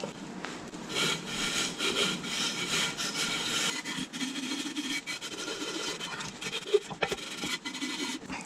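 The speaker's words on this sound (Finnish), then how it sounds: "Ja nyt tämä 400 hiomapaperilla hion tuo." Steady hand sanding of an AM6 moped engine's gasket surface with 400 grit sandpaper, a continuous close rubbing and scraping in repeated strokes, alone with no talk.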